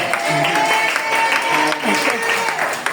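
A church congregation at a Sunday worship service claps and acclaims the Lord, a steady wash of applause and cheering voices with sustained tones running beneath it throughout.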